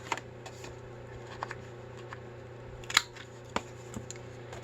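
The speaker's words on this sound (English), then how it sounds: "So, we will cut our little tag corners." Scissors snip the corners off a small paper tag, about 3 1/4 by 6 inches, giving a few sharp, quiet clicks spaced unevenly over a faint steady background hum.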